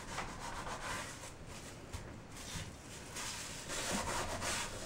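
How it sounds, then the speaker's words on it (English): Wooden molding burnished by hand, a steady, close, dry rubbing hiss in continuous back-and-forth strokes, fairly quiet, with no talking. "burnishing makes the wood nice and hard, so it'll preserve your molding a little better against nicks and splintering"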